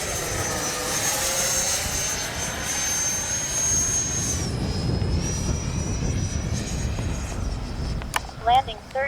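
Freewing 90mm F-15C RC jet making a low gear-down pass, its steady electric ducted-fan whine rising and shifting in pitch as it flies by, loud and continuous, with a brief voice near the end.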